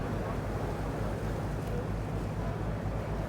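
A low, throbbing long-tail boat engine drones steadily nearby in Thailand, its rhythmic pulsing thrum mixed with a wash of wind and water noise.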